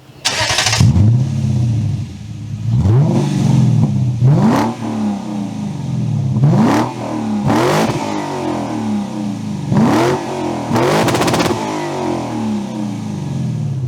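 A lowered Lexus LS460 on large wheels is driven over a speed hump. The engine note swells and eases in repeated acceleration passes, loud and close, with sharp bumps between gears and no speech.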